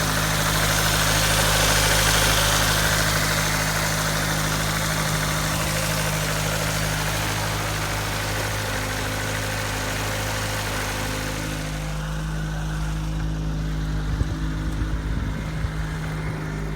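A 2003 Ford Focus SVT engine idling on a test, steady and smooth with a constant low hum and mechanical whir, close and loud, with faint rattling near the end.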